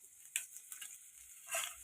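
Dried red chillies fry in butter in a pan, a soft, faint sizzle with a couple of brief scraping stirs.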